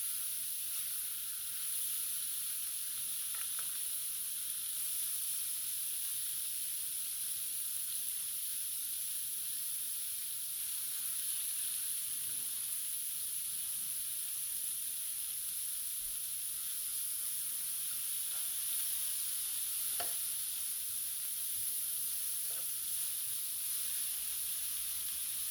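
Steak sizzles on a greased griddle for a Philly cheesesteak, a steady soft hiss that runs the whole time, with occasional faint clicks and no voices.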